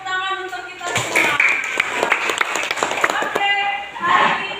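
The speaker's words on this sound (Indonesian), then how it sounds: "tepuk tangan untuk kita semua" Students in an Indonesian classroom clap together at the start of a Friday lesson, a burst of uneven hand claps lasting a few seconds while a teacher's voice carries over and around them.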